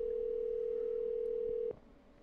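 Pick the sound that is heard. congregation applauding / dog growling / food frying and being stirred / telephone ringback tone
telephone ringback tone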